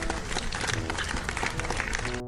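Children clap in a dense, continuous burst of applause, many hands patting at once for a couple of seconds with no pause.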